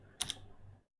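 A few quick keystrokes on a computer keyboard as an IP address is entered, two sharp clicks close together followed by a brief pause and one more tap, quiet and close.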